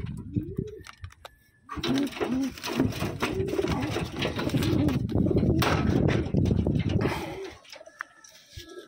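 Taiwan racing pigeons, including a black check bird, coo repeatedly at close range, a rhythmic series of soft throaty calls with wing rustles and handling noise.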